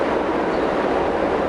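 Train at Southern Cross station in Melbourne, a steady close rumble of rolling carriages that holds without pause.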